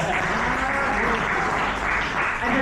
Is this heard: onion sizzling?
no